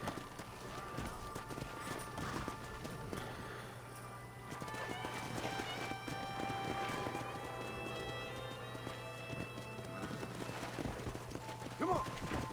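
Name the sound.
horse hooves while wrangling horses in Red Dead Redemption video game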